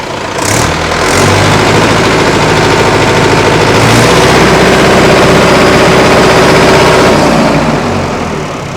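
A Mahindra Yuvo Tech+ 585 50 hp 4x4 tractor's non-turbo engine roars loudly close up, revving hard and holding a steady, rattling drone before easing off.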